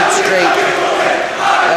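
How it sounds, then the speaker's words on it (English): Saints home crowd at a high school junior boys basketball game chanting together in a gym, a loud, dense mass of voices rising and falling in rhythm for a brief stretch. "The Saints crowd now really getting into it here with their "I believe that we will win" chant"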